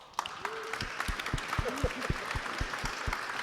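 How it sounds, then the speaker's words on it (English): A small audience at an evening talk show applauds a guest, a modest, fairly quiet patter of clapping with distinct individual claps and a brief voice heard under it. "give him a big applause"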